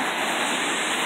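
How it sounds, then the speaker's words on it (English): A steady, dense roar of falling water, broad and constant like a nearby waterfall, with no voices. "Waterfalls."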